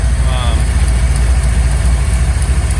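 Camaro engine idling with a race carburetor fitted, a steady loud low rumble heard from inside the cabin, continuous throughout with a faint voice briefly in the background.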